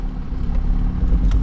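A vehicle powered by a 4JB1 diesel engine climbs a steep hill out of town, giving a steady low engine drone under load that stays loud throughout.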